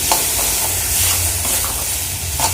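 Spices being fried and stirred in a pan hiss and sizzle steadily, with soft scraping stir strokes surfacing now and then, close and continuous without any voices.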